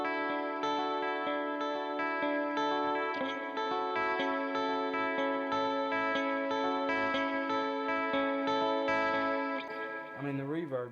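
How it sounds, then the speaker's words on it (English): Sustained electric guitar chords with a wavering, shimmering modulation and a wash of reverb, played steadily for about ten seconds before trailing off. "Okay, so pretty low, but you add this reverb"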